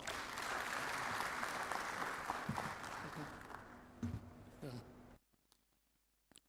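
Applause from the audience at a Lagos Business School executive education graduation ceremony, fairly close and steady, fades and breaks into a few scattered claps and rustles before stopping into near silence.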